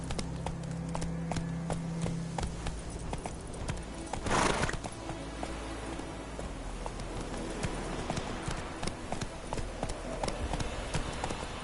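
Hooves of the horse Roach clip-clop at a gallop in The Witcher 3, a steady rhythmic beat close by over a low game ambience, with a brief burst of noise midway.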